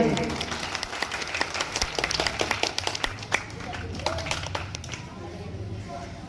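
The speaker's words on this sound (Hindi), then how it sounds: "हौसला अफजाई कर दे भाई, एक दो बार ताली बजा दे।" Scattered hand clapping from a gathered audience at a small ceremony, uneven sharp claps over a few seconds, moderately near, with voices talking underneath and fading out toward the end.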